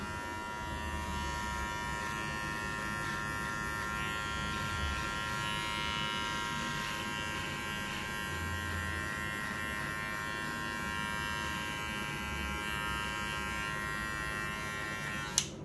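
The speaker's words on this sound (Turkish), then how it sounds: "Klasik saç kesimin sakalları da bir numarayla aldık makineyle." Electric hair clippers trimming a beard down to a number-one guard during a classic men's haircut at a barbershop, a steady close buzz running the full length without pause, ending in a brief click.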